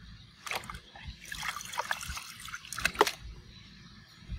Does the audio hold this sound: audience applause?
no